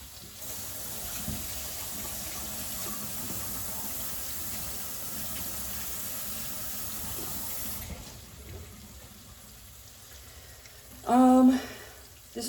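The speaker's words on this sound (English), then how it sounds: "Let me wash my hands real quick." A kitchen tap runs steadily as hands are washed under it for several seconds, a soft continuous hiss of water, then it stops, leaving quieter room sound with a short clatter near the end.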